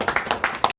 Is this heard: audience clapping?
yes